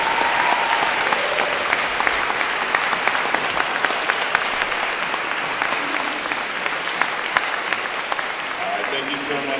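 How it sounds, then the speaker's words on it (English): An auditorium audience gives steady, full applause that carries on unbroken, with many hands clapping at close range and a few faint voices underneath. "how about one more round of applause for Miss E?"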